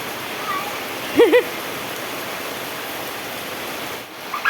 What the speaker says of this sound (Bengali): এতটা পরিমাণে বৃষ্টি হচ্ছে যে উঠানে জল জমে যাচ্ছে